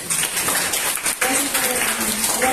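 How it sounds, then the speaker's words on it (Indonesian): Applause from a church congregation welcoming a new member at a Jakarta worship service, a steady broadband patter of hands filling the room, with a voice speaking over it partway through. "Suci, kasih tepuk tangan"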